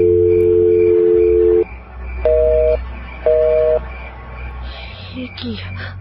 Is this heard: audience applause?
no